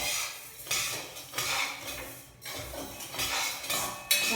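Wheat semolina and moong dal are dry-roasted together in a pan with a spoon stirring in quick repeated strokes. Dry, gritty scraping and light clinks of metal against the pan come in close bursts, with no sizzle.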